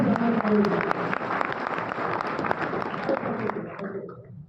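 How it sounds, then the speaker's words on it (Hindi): Audience applause at a gathering of ITI instructors: dense, steady clapping mixed with crowd noise and voices, holding strong for several seconds before tapering off at the end. "एक बार जोरदार ताली बजाइए हमारे साथ"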